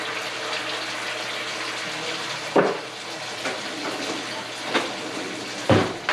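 Jarred marinara sauce being poured into a pan, a continuous wet liquid rush with a few soft splats and plops near the end.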